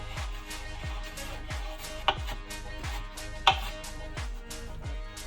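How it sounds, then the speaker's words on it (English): A knife finely chopping fresh parsley on a board, a steady run of soft, evenly spaced taps close by, with two sharper knocks, under quiet kitchen background. "Parsley, we're gonna do a fine chop"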